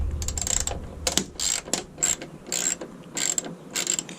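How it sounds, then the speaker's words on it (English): A hand ratchet loosens a lower bolt on the tailgate of a 2018 Ford F-150, clicking in rapid bursts separated by short pauses, close and clear with no talk. "Take our ratchet and just loosen this lower one."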